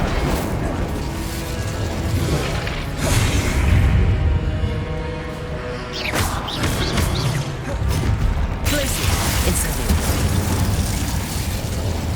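Fiery bursts and crackling booms from the Incendio fire spell in the game Hogwarts Legacy, loud and continuous with rumbling swells and crashing impacts throughout.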